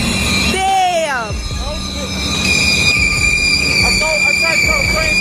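A 1,500-ton locomotive pushes past with shrill, wavering wheel squeals over a heavy rumble, loud and near, with rail clatter underneath.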